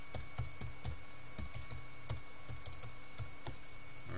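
Computer keyboard being typed on at close range while entering a username and password at a CRM login screen, a steady run of quick, light key taps with no talk.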